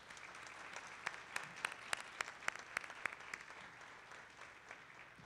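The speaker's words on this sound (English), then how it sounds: "Please join me in a round of applause to thank them for their contributions to Jefferson College." Commencement audience applauding at a college graduation ceremony, a steady wash of many hands clapping with sharper individual claps standing out, faint and distant in a large hall.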